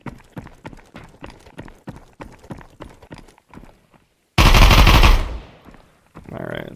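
Gunfire in the video game Exfilzone: a run of rapid, evenly spaced shots, then a sudden loud sustained burst that decays, followed by a fainter noisy burst at the end.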